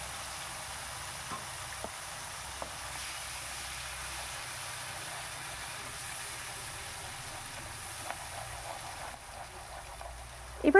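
Ground spice paste sizzles and fries steadily in a pan while being stirred, a constant soft crackling hiss with a few faint scrapes, continuous and close.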